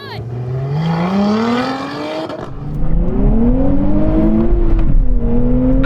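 Four sports cars, a Nissan Z, Porsche GT4 RS, Toyota Supra and Lotus Emira, launch together in a drag race. The engines roar close and loud, climbing steadily in pitch, dipping briefly at a gear change, then swelling louder and rising again.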